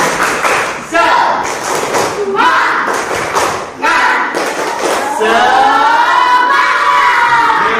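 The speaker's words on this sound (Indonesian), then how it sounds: "mari kita sepakati bersama keyakinan kelas kita dengan tepuk semangat" A classroom of students claps a rhythmic 'tepuk semangat' spirit clap in short, sharp bursts with shouted voices, ending in a sustained cheer.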